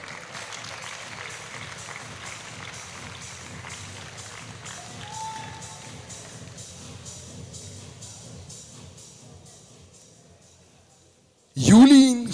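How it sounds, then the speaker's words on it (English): Audience applause at a sports awards ceremony: a crowd claps steadily under an announcer's voice, then the clapping thins and fades, and a sharp burst of loud sound cuts in at the very end. "Come on, keep that applause coming."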